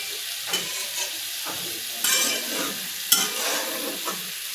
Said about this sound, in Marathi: आता हे छान फ्राय होऊ देऊ